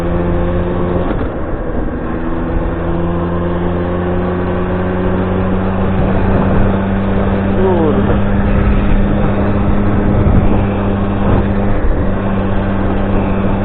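A Yamaha Stallion motorcycle engine runs steadily at idle, a loud, even drone with a constant low hum that swells slightly as it is revved, close by and alone.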